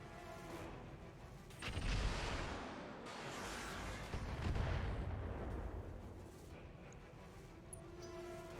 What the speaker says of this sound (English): we just AMS shot down missiles that they were trying to utilize